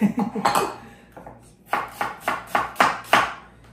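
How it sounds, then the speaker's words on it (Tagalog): Onion being sliced for sisig on a cutting board: a few quick cuts, a pause, then a steady run of six evenly spaced knife chops, close and crisp. "sibuyas bombay lang, gawin natin. Simple lang no, ang bilis na hiwain no."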